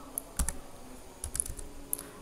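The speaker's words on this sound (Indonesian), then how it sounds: "Oke, kita ketikkan lagi" Computer keyboard keys are tapped in short irregular bursts while entering router configuration commands, close and fairly quiet, with a few isolated clicks between quick clusters of keystrokes.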